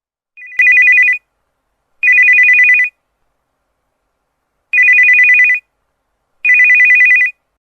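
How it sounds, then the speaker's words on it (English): A mobile phone ringtone plays in four bursts of a bright repeating electronic tone, each lasting under a second with gaps between them, clear and fairly loud despite a slightly muffled quality, as though the phone were lying beneath a pillow. "the ring of the phone sounded low and muffled when it was lying beneath this pillow"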